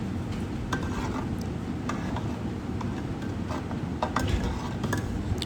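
A large pot of thickening kheer made from eight kilograms of milk is stirred with a spoon, scraped from the sides into the middle. Faint ticking spoon taps and scrapes sit over a continuous low bubbling rumble.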